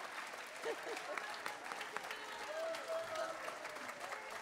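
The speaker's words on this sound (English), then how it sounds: "So can we please give these wild, wonderful women a round of applause" Audience applause at an SFJazz matinee blues show, a steady wash of clapping from a crowd with a few voices and faint tones mixed in, sustained throughout.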